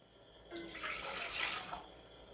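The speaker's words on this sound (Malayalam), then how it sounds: "ഒരു പാത്രം അടുപ്പത്ത് വെച്ച് അതിലേക്ക് 2 കപ്പ് വെള്ളം ഒഴിച്ചു കൊടുക്കാം." About two cups of water are poured into a pot on the stove for boiling vermicelli, a soft splashing pour of just over a second, quiet and nearby, in an otherwise still kitchen.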